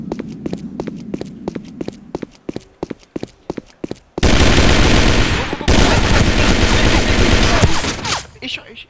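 Gunfire in a first-person shooter video game: a rapid string of separate sharp shots, then a loud, dense, sustained burst of automatic fire that fills the last few seconds.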